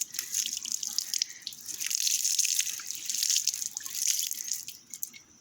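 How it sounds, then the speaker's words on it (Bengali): Turmeric water poured over a holy basil (tulsi) plant, a steady splashing trickle with dripping, continuous and fairly close, no voices. "এবার আমরা তুলসী মাকে এই হলুদ জল দিয়ে স্নান করাবো পুরো মাথা থেকে কিন্তু স্নান করাবো"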